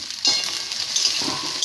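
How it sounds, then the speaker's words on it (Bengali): Square-cut capsicum sizzles steadily in a hot pan for chili chicken, a continuous bright crackle with a few stirring scrapes and no talking. "এগুলো না একদম লাল লাল করে ভাজলে হবে না।"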